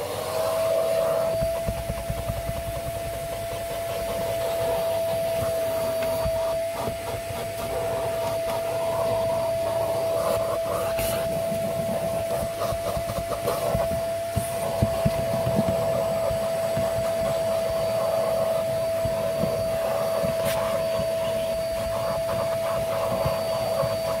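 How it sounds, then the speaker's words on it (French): A vacuum cleaner runs steadily with a high, constant whine, close up, with shifting rustles and bumps as the nozzle moves across a car's floor mat. "je vais uniquement aspirer mon tapis"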